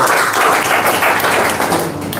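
A room full of students claps together loudly, with dense, continuous applause throughout the short clip.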